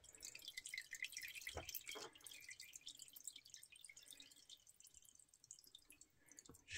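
Liquid resin dripping off a lifted 3D-printed part as it drains, a run of small, quiet, irregular drips and patters close by with no one speaking.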